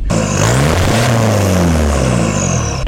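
A 1996 Toyota Hilux Surf SSR-G engine revs and roars steadily up close, its low rumble rising and falling over about three seconds with no one speaking.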